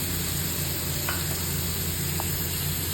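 Sour curd sizzles in a hot pan with chilli, turmeric and cumin powder for dahi tadka, a steady crackling hiss with a couple of faint spoon clicks from stirring.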